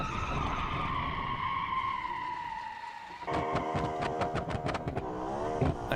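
A fast car driven hard skids with a long sliding tire squeal that drops in pitch, followed by rapid engine revving and repeated bursts, loud and continuous throughout.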